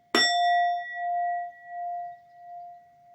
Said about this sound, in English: But I can ring my bell.